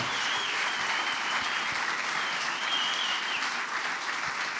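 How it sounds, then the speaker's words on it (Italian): Studio audience applause opening an Italian comedy talk show episode, dense sustained clapping at an even level throughout, with no talk over it. "Applauso."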